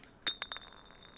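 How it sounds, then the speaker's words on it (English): A small object slips out of a character's pocket in a video game and lands with a soft clink, a few bright glassy taps in quick succession that ring briefly and then fade into quiet. "something fell out of his pocket with a soft clink"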